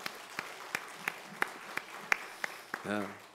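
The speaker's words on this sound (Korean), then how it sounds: "우리 지난주 몸으로 드리는 헌신 예배에 참석하신 분들 위해서 박수 한번 하겠습니다" A church congregation at a Sunday service claps in slow unison, about ten evenly spaced sharp beats, before a voice begins speaking at the end.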